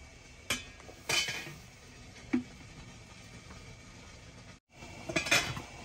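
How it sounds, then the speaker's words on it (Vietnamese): A Vietnamese bánh cuốn steamer pot is handled in a kitchen, giving a few sparse metallic clanks and clinks spread over several seconds against a quiet background. "Rồi giờ thử cái nồi này coi."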